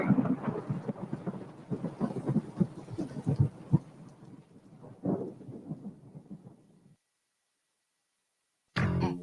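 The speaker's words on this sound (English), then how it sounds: "after you get struck by lightning, there's thunder" Rolling thunder from a Maibatsu Thunder car advert rumbles loudly in dense low crashes for several seconds, then fades into silence before a short, sharp burst returns at the very end.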